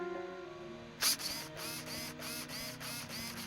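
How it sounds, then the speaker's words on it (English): A new 9IMOD 35KG steering servo in a Traxxas Slash gives a sharp click, then a series of short, repeated whirring sweeps, close and fairly quiet. "now I've just plugged in my new servo to set the steering trim"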